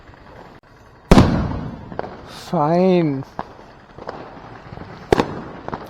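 Diwali firecrackers burst outdoors with sharp, loud bangs spaced a few seconds apart, including a whistling rising-and-falling cracker in the middle, as people talk nearby.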